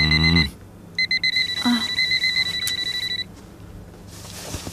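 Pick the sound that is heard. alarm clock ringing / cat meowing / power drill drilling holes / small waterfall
alarm clock ringing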